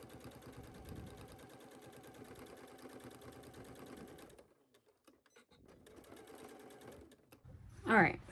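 A sewing machine runs steadily for about four seconds understitching a seam on a garment, stops briefly, then hums again before a short louder clatter at the end.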